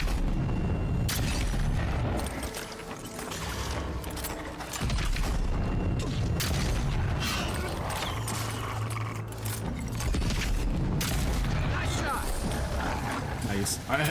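Guns fire in Avowed amid dense fantasy combat, repeated sharp cracks and booms scattered across busy clanging and rumbling, loud throughout with talk mixed in.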